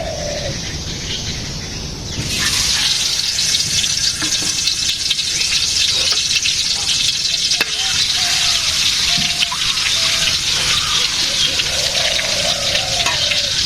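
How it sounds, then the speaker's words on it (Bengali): Sliced potatoes frying in oil in a pan in a village kitchen, a loud continuous hissing sizzle that swells after a couple of seconds and holds steady, with faint voices and birdsong in the background. "আলু ভাজতেছি আলু সব দিয়ে দেয়"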